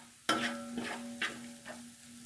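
Coarsely pounded garlic and ginger brown in desi ghee, with a quiet sizzle under a few stirring scrapes of a spoon against the pan.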